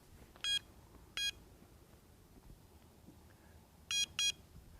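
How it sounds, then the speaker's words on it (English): Electronic carp fishing bite alarms bleep in short, sharp electronic tones beside a lake in Canada: two single bleeps, a pause, then a quick pair of bleeps, all over quiet outdoor background. "These electronic bite alarms will bleep if a fish picks up the bait and runs away with it"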